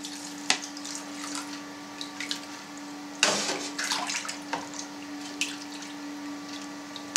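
Hot water is poured into a vessel of cheese curds and stirred while making Dutch Leyden cheese from cow's milk, a steady close splashing with sharper sloshes from the stirring.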